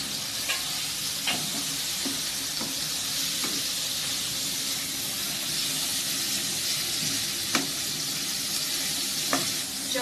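Spices sizzle and fry in hot oil for a chicken curry with fried potatoes added, a steady close hiss broken by occasional stirring scrapes and pops.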